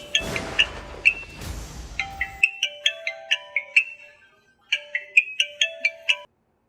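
A phone's ringtone plays for an incoming call in a Pakistani drama, a chirpy electronic pattern of repeated beeping notes in two bursts with a short gap between them, heard alone after a brief stretch of other background sound.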